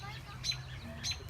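Baby birds chirp from a nest built on a backyard swing, two short high peeps spaced about half a second apart, faint and slightly distant against outdoor background noise.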